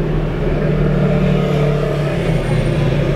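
Low, steady car engine rumble in slow, bumper-to-bumper tourist traffic near Great Smoky Mountains National Park, heard from inside the vehicle as a continuous drone with no talking.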